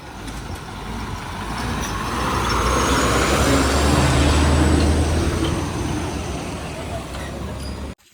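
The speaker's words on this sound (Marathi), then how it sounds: "आणि एस टी पण बघा कशी येते डेपोत जायला" An MSRTC ST bus pulls into the depot at Kharepatan, heard as a broad engine and road roar that swells as it passes close and then fades, ending in an abrupt cut.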